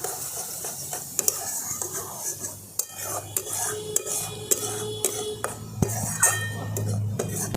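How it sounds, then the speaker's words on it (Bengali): A spoon mixes a paneer pizza topping with chili flakes in a metal bowl, giving repeated clinks and scrapes in an uneven rhythm over a low background hum. "এবার আবার একবার খুব ভালো করে মিশিয়ে নিচ্ছি।"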